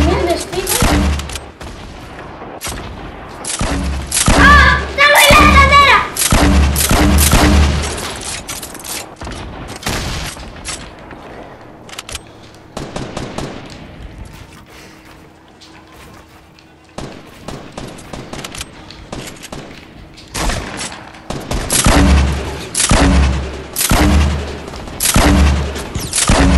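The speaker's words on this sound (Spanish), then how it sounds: "¿Qué me está disparando?" Heavy gunfire in Fortnite during a 50 vs 50 match on PS4 crackles in repeated loud bursts and booms, with quieter gaps between volleys and voices shouting over parts of the action.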